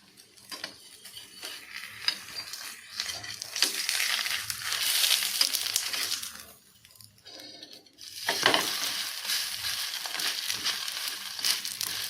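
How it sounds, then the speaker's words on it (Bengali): A steady sizzle and crackle of potato lachha paratha frying in a pan over medium heat, with occasional scraping and a brief quieter gap in the middle. "মিডিয়াম আছে রেখে পরোটা ভেজে নেব"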